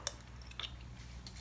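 A spoon clinks lightly against a bowl while miso soup is prepared, giving two or three faint, brief metallic taps over quiet room noise.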